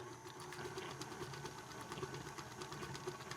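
A small electric mixer runs close by, blending dry ingredients for an Australian pudding, a steady whirring motor hum with slight rhythmic flutter and no talk.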